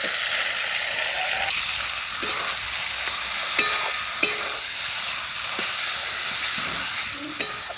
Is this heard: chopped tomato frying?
yes